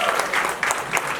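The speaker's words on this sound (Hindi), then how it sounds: "उनके लिए जोरदार तालियां।" Audience at a Hindi film trailer launch event clapping loudly, a dense burst of applause filling the brief moment with no speech over it.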